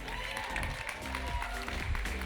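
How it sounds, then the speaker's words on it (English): An audience applauding at a fashion runway show during the Mrs. Australia International pageant, full energetic clapping with music playing beneath it, continuous and fairly loud. "applause for the Rockwear new collection."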